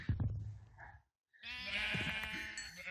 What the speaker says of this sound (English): Black, white, and gray are the natural spawning sheep.